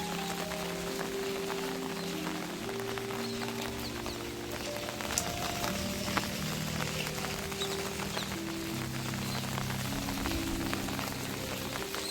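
Steady rain patters on surfaces throughout, a continuous wash of drops with no talking, while faint tonal sounds hum underneath.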